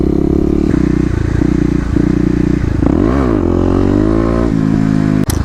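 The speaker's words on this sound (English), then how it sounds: "with a modified exhaust, aftermarket, they really scream." A Kawasaki KLX250 with an aftermarket exhaust running on a highway: a loud, steady engine drone with buzzy harmonics, a rising and falling rev swell midway, and wind buffeting, close and continuous without speech.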